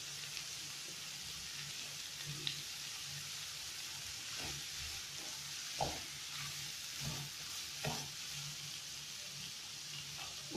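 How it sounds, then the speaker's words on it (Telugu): Curry leaves hit hot oil in a pan while kichidi is being cooked, giving a soft, steady sizzle with scattered light pops and crackles, heard alone at low volume. "ఇప్పుడు కరివేపాకు వేస్తున్నాము."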